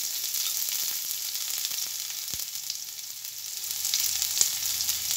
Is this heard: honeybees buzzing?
no